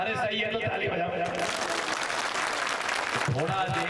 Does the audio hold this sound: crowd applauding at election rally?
yes